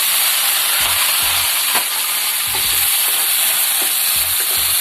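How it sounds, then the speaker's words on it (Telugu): Green chilies and tomatoes fry in hot oil in a kadai, giving a steady loud sizzle with recurring stirring scrapes throughout, no voices. "ఇదే కడాయిలో నూనె పోసుకొని రెండు టేబుల్ స్పూన్లు పచ్చిమిర్చి టమాటాని వేపుకుందాం"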